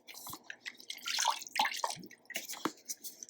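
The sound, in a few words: pouring a splash of vanilla extract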